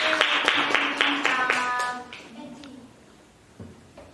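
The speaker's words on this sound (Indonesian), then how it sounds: "tepuk tangan untuk Fadil" A class claps rhythmically for a quiz winner, a short run of brisk, evenly spaced claps mixed with children's voices, fading out after two seconds.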